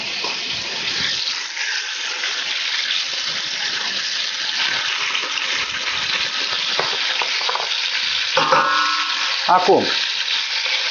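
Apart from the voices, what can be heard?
meat sizzling while frying in a pot for goulash soup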